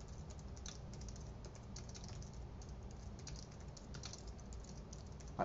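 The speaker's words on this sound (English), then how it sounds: "Double clicked and typed in the name of the church" Fingers type on a computer keyboard in quick, fairly steady keystrokes that run continuously, close but quiet, with no voice over them.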